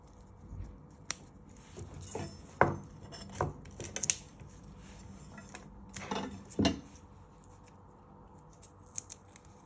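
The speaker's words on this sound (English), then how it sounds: "So you first peel all the skin off the garlic." Garlic cloves are trimmed and peeled on a kitchen surface, making scattered close taps, cuts and papery skin rustles in irregular bursts, with quiet gaps between them and no speech.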